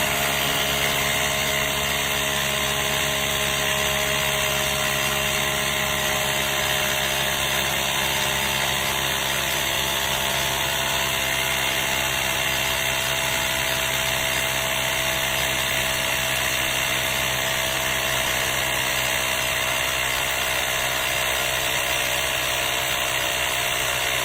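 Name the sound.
Nature Hero cordless portable air compressor inflating a tire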